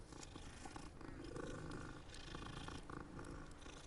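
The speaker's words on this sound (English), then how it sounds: "It's a cat." Big cat creature in the video game Hogwarts Legacy, a deep, rumbling growl and roar with purring texture, sustained and moderately loud over game ambience, no talking.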